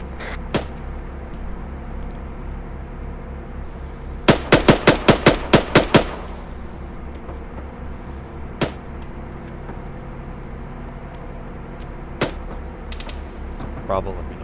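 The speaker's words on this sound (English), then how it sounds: "go ahead and start suppressing. About 3-round bursts." Machine gun fire in the Arma 3 military shooter, with a sharp, close burst of about eight rapid shots mid-way and a few isolated single shots scattered before and after over a low background hum.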